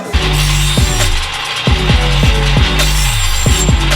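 Scag mower blades being sharpened in a workshop: loud, close rhythmic scraping strokes repeat steadily, each pass rising and falling in a regular cycle, with no voices.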